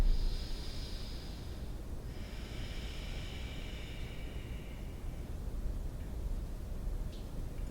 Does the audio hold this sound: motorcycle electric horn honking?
no